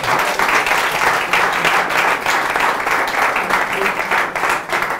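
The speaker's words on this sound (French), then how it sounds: "Est-ce qu'on peut applaudir pour les membres de la Startup Academy?" Steady, dense applause from an audience at a Startup Academy event, a full crowd clapping continuously at an even level throughout.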